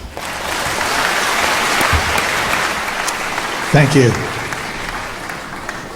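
A concert audience in Los Angeles gives a warm round of applause that swells and then fades, with a voice briefly speaking near the end.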